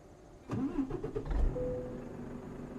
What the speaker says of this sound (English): And we're gonna start the truck.